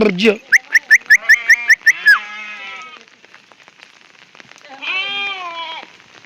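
A sheep bleats in a quavering, pulsing cry on a steep hillside, then falls quiet before a second, wavering bleat rises near the end over faint outdoor background.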